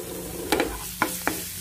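Garlic dropped into hot olive oil in a pan, a soft steady sizzle with a few sharp scraping taps of a utensil stirring, close by and brief.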